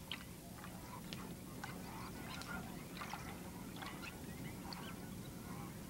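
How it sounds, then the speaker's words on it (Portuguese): A flock of whistling ducks (irerês) at the water's edge in the Okavango wetlands gives repeated short, high whistled calls, scattered and overlapping against a steady low background rumble of the wild. "Um bando de irereis guardam as margens."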